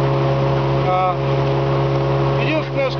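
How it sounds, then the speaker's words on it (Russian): An old 23-horsepower outboard boat motor, a model no longer made in Finland, runs steadily and fairly quietly, with a constant low engine hum throughout and faint chirping sounds over it. "Моторчик старенький, достаточно сказать, что такие моторы уже 20 лет как в Финляндии не выпускаются."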